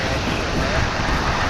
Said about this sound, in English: this flight's coming in from Mazatlan in Mexico, an A319